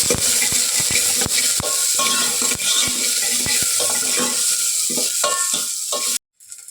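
Onion frying in a hot oil tempering for a village-style roasted horse gram curry sizzles loudly and steadily, with repeated sharp stirring scrapes of a spoon against the pan, ending in a brief pause.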